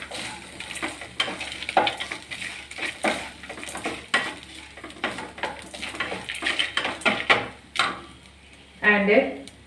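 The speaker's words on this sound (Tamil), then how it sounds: "நல்லா வதக்கி விடலாம்." Curry leaves and asafoetida sauté in a pan with a soft sizzle under repeated clicking spatula strokes and scraping against the metal, moderately close, while a voice speaks briefly near the end.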